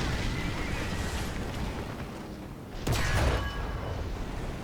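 Bombs explode in the War Thunder tank game during a T-26 mod. 1939 light tank battle, a sudden heavy boom near the middle breaking through steady engine and battlefield rumble.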